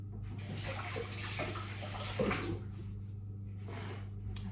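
Water runs steadily from a kitchen tap while food is washed, a soft continuous splash close by with faint handling noises and low hum underneath, no talking.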